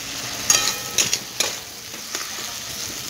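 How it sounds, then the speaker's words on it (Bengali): Chopped tomato fries in a hot pan with a soft sizzle, broken by several sharp scrapes and clacks as a spoon stirs it, close by with no talking. "কন্টিনিউ নাড়াচাড়া করে আমি টমেটোটা ফ্রাই করব"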